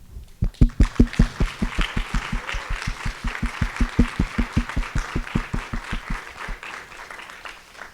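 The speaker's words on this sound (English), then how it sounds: "could we have all of our donors stand so that we can give you a huge round of applause?" An audience at a donor appreciation and scholarship celebration claps in a strong, rhythmic unison beat, loud and evenly spaced, before the claps scatter and fade into looser applause near the end.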